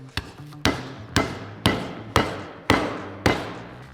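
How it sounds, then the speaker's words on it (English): A heavy skillet pounds raw chicken breast thin on a board: seven firm, evenly spaced thuds, close and fairly loud, each ringing briefly before the next strike. "we're gonna take something heavy like a rolling pin or a meat hammer if you have one. And we're gonna pound that really thin"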